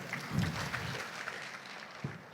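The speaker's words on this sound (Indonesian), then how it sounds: "Tepuk tangan sekalian." Conference audience applause at the opening of an Indonesian digital library conference in a hotel, a modest, fairly soft patter of clapping from a seated crowd, with a few louder individual claps standing out.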